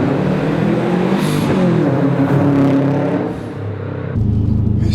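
A loud Subaru WRX engine revs and rumbles up close, its throaty sports exhaust rising and dropping in pitch before settling into a deep idle burble.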